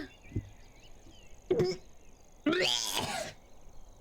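A person coughs twice nearby, a short harsh burst followed by a longer, rougher throaty cough, with quiet room background between them.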